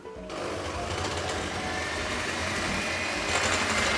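An electric mixer whisks sponge cake batter for tiramisu made with flour, sugar, vanilla and baking powder, a loud steady high whirring buzz that starts abruptly and runs close and continuous to the end.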